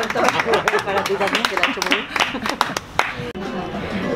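Clapping from a literary event audience in Málaga rattles along under a speaking voice, scattered hand claps mixed with talk and room noise.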